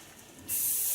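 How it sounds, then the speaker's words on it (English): Flex hairspray sprayed onto long layered hair in a salon, a single steady close hiss that starts abruptly halfway through and holds loud to the end. "Take a flex hairspray,"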